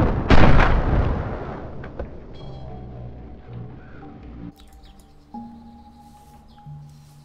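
A loud gunshot bursts out in a DayZ Standalone firefight, followed by a decaying rumble. Fainter bangs and bird chirps come after, along with some tonal game sounds.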